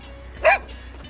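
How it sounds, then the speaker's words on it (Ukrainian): A nervous dog at the start of a mountain hiking trail gives a single short bark, clear and fairly close, amid quiet outdoor surroundings. "Собака нервничає."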